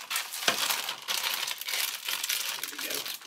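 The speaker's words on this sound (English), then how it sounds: "the plastic bag will give it some protection" Plastic bag crinkling around a model kit part, close and continuous with sharp crackling bursts, the loudest snap near the start, over about three seconds with no talk.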